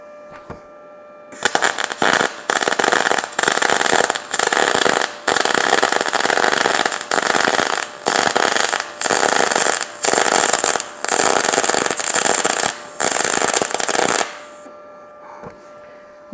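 Arc Captain MIG 200 welder running a bead on 1/4 inch steel plates: a loud, steady crackling hiss in repeated bursts of a second or so with brief pauses, stopping near the end.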